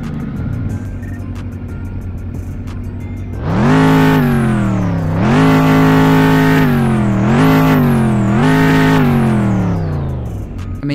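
Bugatti Bolide hypercar engine in the Roblox video game, idling low before several loud revving bursts that climb and fall in pitch, close and alone without talk.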